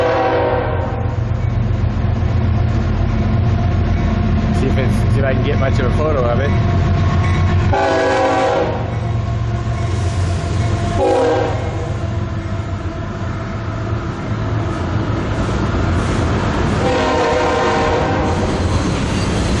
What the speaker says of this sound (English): And we got a train coming.